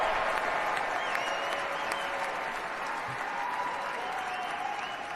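Sustained applause from an audience at an executive order signing on stage, a steady dense clatter of clapping that holds evenly from start to finish without a break.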